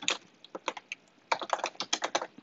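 A passphrase is typed on a computer keyboard, two bursts of quick key clicks separated by a short pause, close and clear with no talking.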